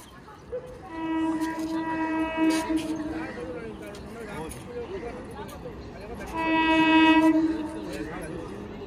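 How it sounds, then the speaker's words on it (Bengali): A Majerhat local train arrives at a station and blows two loud, sustained horn blasts about five seconds apart over a rumbling rail background, with a voice talking nearby. "ট্রেন চলে এসছে, একদম পারফেক্ট টাইমে ট্রেন আসছে, লেট হয়নি।"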